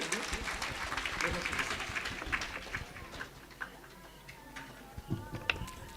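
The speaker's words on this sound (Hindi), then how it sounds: "और जोरदार ताली चाहेंगे इनके स्वागत के लिए।" An audience claps to welcome performers at a live devotional Ramcharitmanas singing gathering, a loose scatter of hand claps rising and thinning over several seconds while voices carry on underneath.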